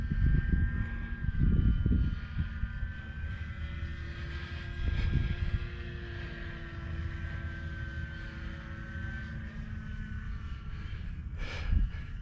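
A Dynam C-188 Air Tractor RC model airplane's small propeller engine drones steadily at a distance on its maiden flight, pitch shifting slightly as it circles, with a few louder low rumbles and gusts nearby.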